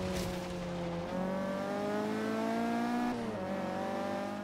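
A turbocharged Mazda Miata in Forza Horizon 3 slides sideways at speed, its engine holding a steady high drone with a brief gear change while the tires squeal, loud and continuous throughout.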